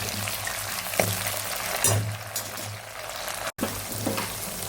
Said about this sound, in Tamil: தக்காளி போட்டுட்டு இதை நல்லா வதக்கி எடுத்துக்கோங்க.